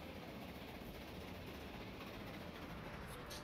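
A train in Transport Fever 2 runs with a steady, faint rumble and a broadband rolling hiss. The sound stays constant throughout and has no distinct clacks.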